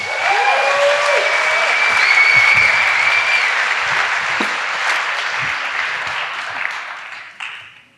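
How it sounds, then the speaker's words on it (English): Sustained audience applause at a design talk, loud dense clapping with a few high whistles early on, holding steady before thinning and fading toward the end. "Give him a round of applause"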